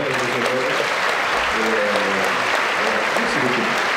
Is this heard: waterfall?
no